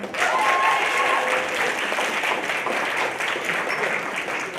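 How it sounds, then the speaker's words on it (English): Sustained applause from a large audience after a soapbox speech, steady and loud throughout, with a few faint tonal sounds briefly rising above the clapping. "Let's hear it one more time for Talon."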